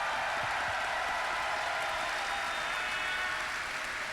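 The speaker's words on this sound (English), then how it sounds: "please, one more round of applause for the amazing sound team here" Audience at the TennoCon live event clapping in a dense, steady wash of applause throughout, fairly distant, with no other sound standing out.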